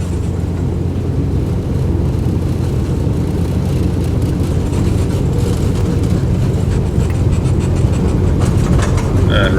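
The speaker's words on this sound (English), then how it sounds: "Finally, we can hear the engine a bit." An Edgley EA-7 Optica light aircraft's engine runs at takeoff thrust, a loud continuous droning rumble heard from inside the cabin, steady throughout with no talking.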